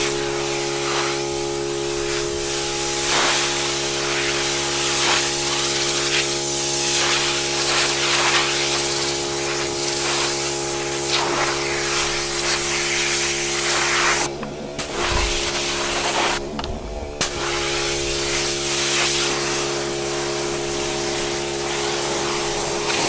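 A pressure washer sprays steadily across a wood deck being stripped and cleaned, a loud continuous hiss over the drone of the machine, broken by two brief drops in the spray partway through.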